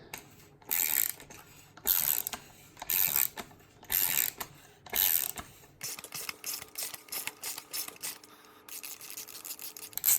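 Dry bicycle hub axle bearings being turned by hand, giving a gritty ratcheting rasp in repeated bursts of about a second each, later settling into a continuous close grinding rattle.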